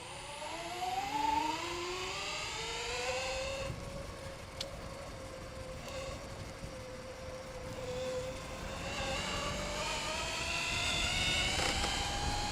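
A DIY electric bike motor whining on a test ride, a smooth rising and falling electric whir with gliding tones as the throttle changes, over steady wind and road noise.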